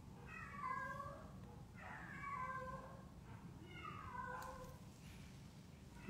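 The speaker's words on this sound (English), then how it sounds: "What? The cat is in heat." A cat in heat yowls in three drawn-out, wavering meows, spaced about every one and a half seconds over a low background rumble.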